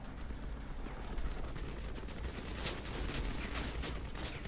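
Machine gun fire from a vehicle-mounted gun in the Crossout combat game, a dense, continuous rattle of rapid shots mixed with other battle noise, steady and fairly loud throughout without any talk.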